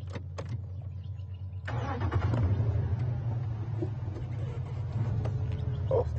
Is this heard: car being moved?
yes